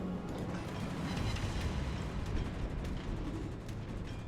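The destroyer Asashio detonates in World of Warships, a dense rolling rumble of explosion that hangs heavy and continuous for a few seconds, with faint crackling debris on top and no talk.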